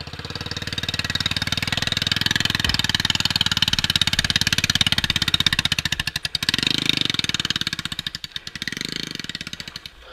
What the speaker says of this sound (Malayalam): ഫുൾ റേസ് കൊടുത്തേ